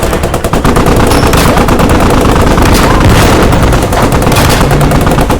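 Rapid, sustained .50 caliber machine gun fire during an armored assault in a video game, loud and continuous with dense overlapping bursts and booming impacts throughout.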